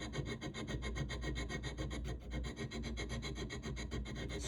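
A hand file rasping on a small metal ring box at a jeweler's bench, with rapid, steady, continuous strokes up close and no talking.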